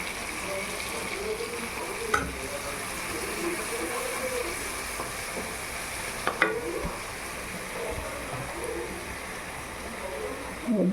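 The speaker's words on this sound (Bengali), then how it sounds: "মশলাটা যে গুলিয়ে রেখেছিলাম মশলাটা দিয়ে দিলাম।" A mixed spice paste sizzles in a hot pan while vegetarian ghugni cooks, a steady, moderate frying hiss broken by a few stirring clinks and scrapes, with faint background noises.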